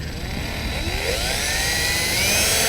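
A power drill spins up to drive a self-tapping screw into construction concrete forms, a loud, close, rising whine over a dense noisy background with no talk.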